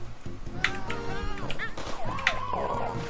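Police car siren in a Korean flash game where a growing mold swallows cars and dogs: wailing electronic siren sweeps rise and fall over busy game music and effects, fairly loud throughout.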